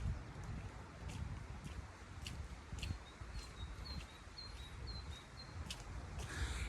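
A bird chirps in a short repeated series against steady outdoor wind and rumble, fairly faint and a little distant.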